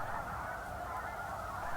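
Snow geese honking on a pond, a dense continuous chorus of many birds calling at once, steady and fairly loud throughout with no talking.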